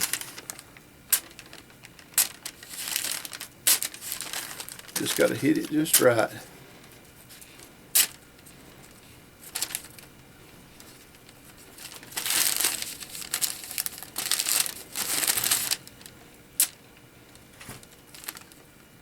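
Knife slicing through a crinkly, wax-paper-like material, giving scattered bursts of dry crackling and crinkling with pauses between cuts, close by, while someone talks in between.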